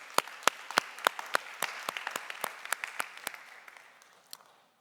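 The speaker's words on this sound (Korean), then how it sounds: "우리 하나님께 큰 박수로 영광 돌리겠습니다." Scattered, loose clapping from a young adults' church congregation at a Sunday worship service, individual claps distinct and fairly close, thinning out and fading over a few seconds.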